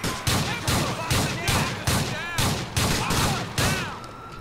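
Pistol gunfire in the video game GTA IV, with about eight loud, sharp shots at a steady rapid pace, each followed by a ringing echo, dense and close.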